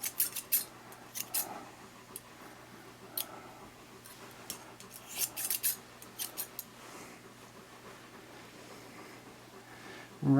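Scissors snip through a dog's hair while the head and center mohawk strip are trimmed during grooming, giving short, crisp, close cuts in irregular clusters and a steady faint background hum.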